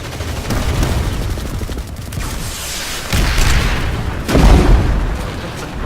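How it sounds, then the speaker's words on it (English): Grenade blast and bursts of gunfire in the sci-fi shooter game PlanetSide 2, a continuous battle din with heavy booms rising around the middle and again near the end. "Grenade out!"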